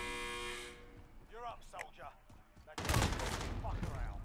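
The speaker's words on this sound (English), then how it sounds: "He starts shooting before I even turn that corner." Burst of shooter video game gunfire, loud and dense, erupting abruptly after a stretch of quieter game sounds with a voice-like tone beforehand.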